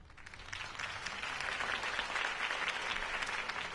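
Crowd applause following a political campaign speech, a steady, dense wash of many hands clapping that holds at an even level throughout, with no voices standing out.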